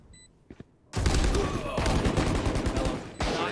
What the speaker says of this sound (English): Brody takes down Big Tingles. Oh! Clean headshot